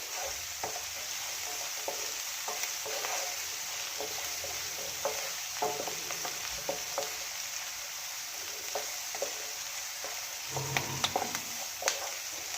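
Onions fry in a pan for a green pea curry, a steady bright sizzle with occasional stirring clicks and scrapes, close and continuous without talk.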